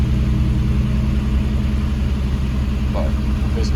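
A Nissan 300ZX with a VQ35DE engine idles close by, a steady, even low rumble that holds for the whole stretch with no clear revving.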